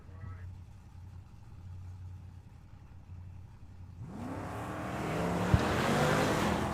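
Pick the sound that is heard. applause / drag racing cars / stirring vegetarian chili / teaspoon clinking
drag racing cars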